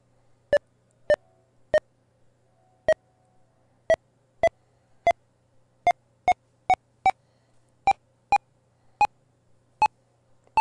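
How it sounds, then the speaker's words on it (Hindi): The NVDA screen reader gives short, sharp progress beeps while Telegram files download, about fifteen clear tones at uneven intervals with no voices. "यहाँ पर आपको डाउनलोड की बीप सुन रही होगी, देखिए। डाउनलोड हो रहा है ये"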